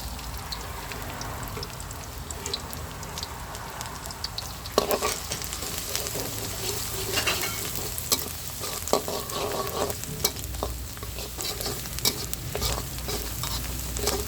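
Steady sizzling of garlic frying in hot oil, with occasional scraping and stirring clicks, continuous and close, no voices.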